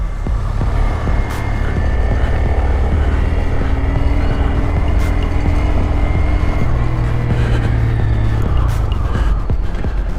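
A Honda Grom motorcycle is ridden, its small engine droning steadily and loudly throughout, mixed with wind buffeting and occasional sharp clicks.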